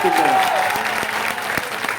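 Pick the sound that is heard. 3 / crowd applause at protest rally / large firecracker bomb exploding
crowd applause at protest rally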